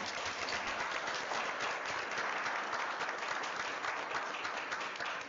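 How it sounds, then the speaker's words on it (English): Audience at a school board of education meeting applauding to honor a past director, a dense, steady wash of many hands clapping at close range, sustained evenly for several seconds with no speech over it. "Let's give him a round of applause"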